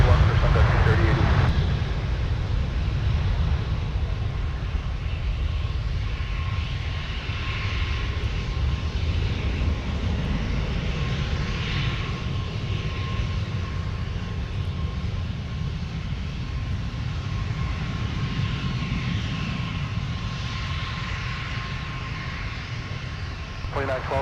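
A narrow-body jet departing runway 12 Right at Minneapolis–St. Paul airport, a loud, sustained engine roar with a broad rumble and steady whine that holds for the full length, heard from a distance outdoors.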